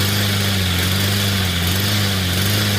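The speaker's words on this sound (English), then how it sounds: "they're cutting the grass out back, next to the classroom" A lawn mower engine drones steadily and loudly behind a school classroom as grass is cut, a continuous low hum with a buzzing upper hiss and no pauses.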